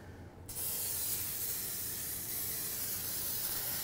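Olive oil sprays from a can onto a non-stick tray in a steady, close hiss that starts abruptly and runs continuously for several seconds.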